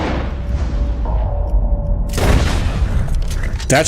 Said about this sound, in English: So I can pull out my scoped rifle.